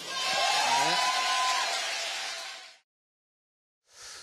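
Studio audience applause on a live Korean news program, a dense broadband wash of clapping that fades out and stops, followed by a brief burst after a short silence.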